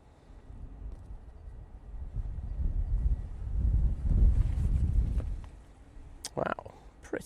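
Gusty wind buffets an outdoor microphone at Manchester Airport, rumbling low and swelling to a strong roar midway before easing, with a few sharp knocks near the end.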